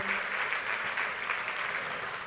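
Steady applause from a church congregation fills the whole stretch, a dense, even patter of many hands at moderate level with no talk over it.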